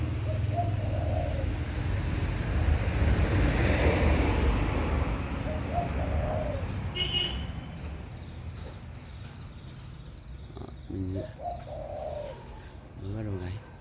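A year-old caged spotted dove with a warm voice, just starting to sing, gives a few low, soft coos. Someone talks over much of it and a car passes in the background.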